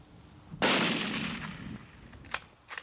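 One loud rifle shot fired while deer hunting, a sharp close blast with a long rolling echo trailing off, followed by a couple of faint clicks.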